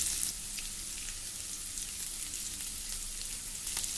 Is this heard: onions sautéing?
yes